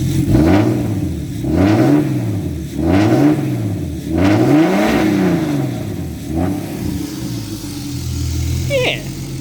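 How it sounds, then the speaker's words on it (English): A BMW E36 drift car with a turbocharged M50 engine is revved repeatedly, each rev climbing and falling in a loud rhythmic swell close by, about five blips before settling back to idle. "I'll let it warm up and then come back and give her some revs."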